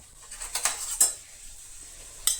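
Onion and green chillies stirred in a pan with a utensil, giving a few close metallic scrapes and clinks in a quiet kitchen.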